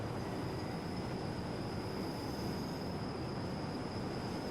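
Rhaetian Railway train running on the Albula Line in Train Simulator, a steady, fairly quiet rolling rumble with a faint high tone, continuous and even throughout with no speech.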